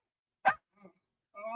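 A dog barks once sharply and loudly nearby, followed by a quieter short yelp, then a voice begins talking over a quiet background.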